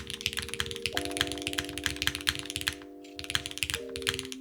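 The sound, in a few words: typing on Haven60 mechanical keyboard after loosening screws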